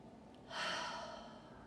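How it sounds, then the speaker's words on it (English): A deep breath drawn in during a pranayama breathing exercise swells up clearly as a single close, airy inhale, rising quickly then tapering off in a quiet setting. "Take a big breath in."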